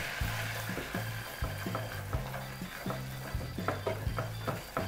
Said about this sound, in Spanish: Sofreímos la harina durante unos minutos.